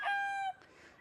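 A single short rooster call from a gray gamefowl, a bright tonal crow lasting about half a second, fairly close, followed by quiet background.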